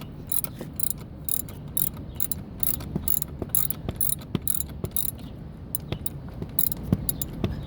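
A ratchet wrench loosens the seat bolts in a 2009 Kia Borrego, making continuous fast, close metallic clicking in bursts as the handle swings back and forth.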